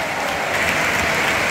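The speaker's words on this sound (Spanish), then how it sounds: "en honor a Jarque, se levanta todo el RC Stadium para aplaudir" A full football stadium crowd at the RCDE Stadium in Barcelona applauds in honor of Jarque during an Espanyol versus Real Madrid match, a dense, steady roar of clapping throughout.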